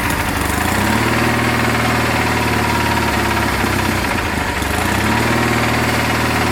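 A cold-started engine runs steadily at idle, loud and close, with a rough, slightly knocking low throb that holds throughout without any talk.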